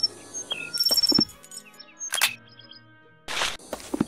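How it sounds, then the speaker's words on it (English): In a Sherlock Holmes video game, a blue bird of paradise gives short chirping calls amid scattered clicks and brief bursts of game noise, fairly quiet overall. "we are dealing with a blue bird of paradise, my dear Watson"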